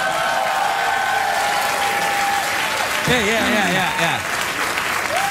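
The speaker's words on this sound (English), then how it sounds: "Go ahead and applaud, because you ain't going to lunch." A studio audience at a daytime talk show applauds steadily throughout, while someone talks briefly over the clapping near the end.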